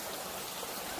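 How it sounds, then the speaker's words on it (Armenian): Rain beginning to fall outdoors in a gorge near a small hill, a soft, even hiss of drops heard faintly and steadily with no voices. "անձրևը սկսվեց"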